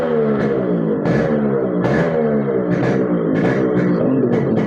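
Yamaha RX100 two-stroke motorcycle fitted with a kill switch, revving in short repeated bursts, a loud close buzzing engine note that rises and falls in pitch with sharp blips, no talking.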